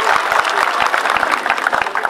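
Festival crowd at the third fig festival in Gürleyik, Dalaman applauds in a lively burst of many overlapping claps, dense and close, steady for the whole short stretch.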